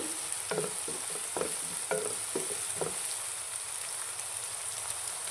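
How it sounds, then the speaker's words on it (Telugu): Onions and ivy gourd fry in a pan with a steady, close sizzle, broken by a few spoon-scraping stirs early on before settling into continuous frying hiss. "బాగా ఫ్రై అవనివ్వండి ఆనియన్స్ ఫ్రై అవుతున్నప్పుడు"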